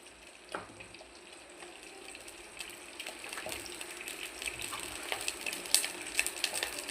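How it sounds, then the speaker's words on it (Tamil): Sesame oil poured into a heated clay pot for fish curry gives a soft, faint liquid rush and sizzle that gradually builds, with a few light clinks, and no one talking. "நல்லெண்ணெய் சேர்த்துக்கலாம். நல்லெண்ணெய் தாங்க மீன் குழம்புக்கு நல்லாயிருக்கும்."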